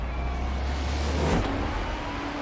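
Rover SD1 Vitesse driving a track in Forza Horizon 4, a brief faint engine whir that swells briefly as the game car accelerates, with no talk.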